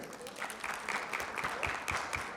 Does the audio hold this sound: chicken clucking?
no